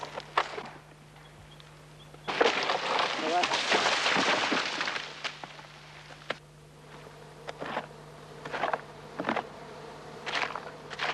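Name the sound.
buzzing of small native bees at their nest in a tree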